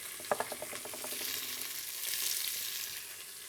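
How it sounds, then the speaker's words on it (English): Onions fry in a hot pan with olive oil and salt, a spoon scraping through in a quick burst of strokes before a steady, fairly quiet sizzle carries on alone. "Now I'll give that a good stir."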